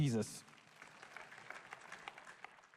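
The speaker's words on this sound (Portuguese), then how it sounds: "Mais uma vez, vamos aplaudir a Jesus." A church congregation applauds in a steady, moderately distant patter of many hands, following a brief burst of loud voice at the start.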